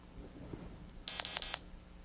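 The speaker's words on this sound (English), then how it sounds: "Watch as I activate the alarm." A patient proximity sensor alarm gives three short, bright electronic beeps in quick succession, clear and close over a quiet room.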